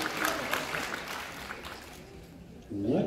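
Applause and crowd noise from an audience at a comic con panel with actor Anthony Mackie, bursts of clapping mixed with murmuring voices that fade toward the end before a louder swell returns.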